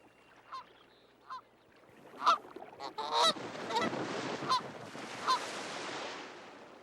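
Several Canada geese honk in short, separate calls, then a denser burst of overlapping honking and flapping follows, fairly close against a quiet outdoor background.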